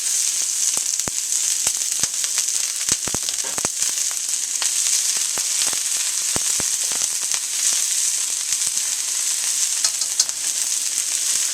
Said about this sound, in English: So throw the onions in, the garlic to start seasoning the oil.